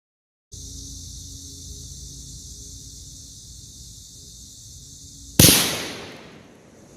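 .223 rifle firing a Hornady 70 grain GMX bullet into ballistics gel outdoors, one sharp loud crack after several seconds of steady background hiss, followed by a ringing decay, with no talking.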